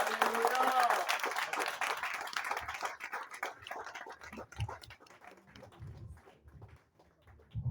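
A church congregation at a convention of CEADI churches claps and cheers in praise, loud at first and then thinning into scattered claps and voices, with people talking over it.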